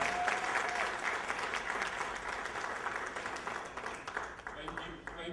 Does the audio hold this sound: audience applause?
yes